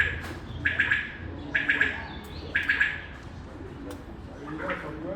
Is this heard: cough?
no